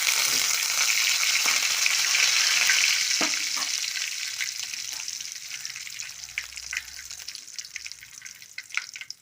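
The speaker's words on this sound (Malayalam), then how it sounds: "കടുകെല്ലാം നല്ലവണ്ണം പൊട്ടുന്നുണ്ട്" Hot oil sizzles loudly at first, then settles into softer crackling with scattered sharp pops as mustard seeds burst in the pan.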